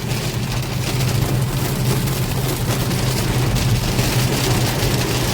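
Steady heavy rain drumming on a vehicle, a dense continuous wash of noise over a low rumbling hum of the car moving along.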